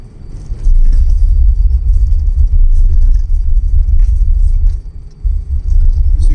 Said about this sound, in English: we're driving down this little gravel road headed off to Hampton Butte